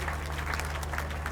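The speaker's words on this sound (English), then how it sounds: "If you are clapping, please clap very well." Applause from mourners at a burial ceremony for Dapo Abiodun's father, a steady wash of clapping over a constant low hum, moderately distant and unbroken throughout.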